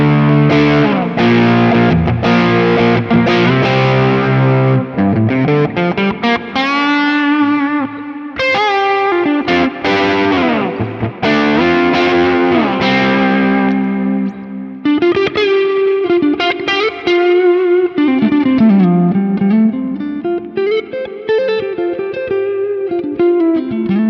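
An electric guitar runs through the OD250 overdrive on a Quad Cortex, playing a continuous distorted melodic phrase with bends and sustained notes. The tone is loud, thick and midrange-heavy, and no one speaks.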